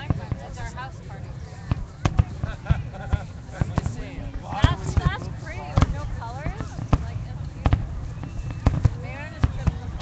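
Fireworks at Kitsilano Beach in Vancouver in 2012, a string of sharp distant bangs and crackles at irregular intervals, with people chattering close by throughout.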